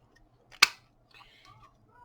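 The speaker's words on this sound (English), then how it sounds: "And then we're going to cut a circle out of this." A single crisp snip of scissors cutting a circle from doubled-up music-page paper, short and close, followed by faint rustling.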